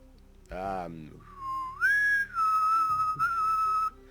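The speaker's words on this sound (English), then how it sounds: "hovering over the recently departed is a small dwarf, whistling a tune" A small dwarf character in the Shadowrun Returns video game whistles a tune, a clear sustained melodic whistle with gliding pitch changes, preceded by a brief burst of another sound.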